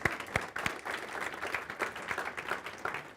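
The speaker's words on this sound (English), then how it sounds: "So I think we need a round of applause for that before we start off." Round of applause from a lecture audience at a university talk, steady dense clapping throughout, moderately quiet and continuous with no voices.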